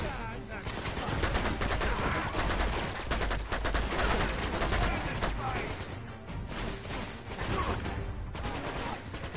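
Sustained gunfire in the game Uncharted 2, dense rapid bursts of automatic weapon fire and shots crackling continuously, loud and close, with speech mixed in.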